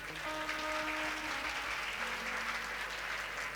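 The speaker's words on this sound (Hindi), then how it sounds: "एक बार जोरदार तालियां आदरणीय शास्त्री जी के लिए।" An audience at a religious katha gathering claps in sustained, even applause that stays loud and fills the room for a few seconds, with a faint trace of crowd murmur.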